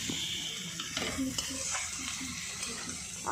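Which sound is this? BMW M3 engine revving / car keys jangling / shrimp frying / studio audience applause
shrimp frying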